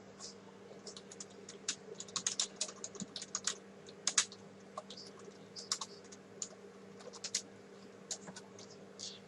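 Code being typed on a computer keyboard, quick irregular runs of close, light key clicks with short pauses, over a faint steady hum.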